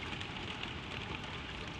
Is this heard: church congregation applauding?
no